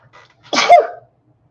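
A single sharp human sneeze bursts out close and loud, brief and alone, with a short intake of breath just before it.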